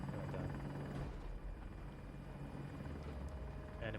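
Military helicopter in the Battlefield 2042 video game, a steady low rotor drone with engine whine running continuously, mixed with faint game effects.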